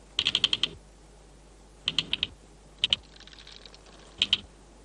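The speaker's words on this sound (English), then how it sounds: "the soldiers sound their clicking alarm by beating their heads on the ground." Termite soldiers beating their heads on the ground of a clay mound as an alarm, producing sharp dry clicks in quick bursts of four to six, separated by short pauses, close and distinct.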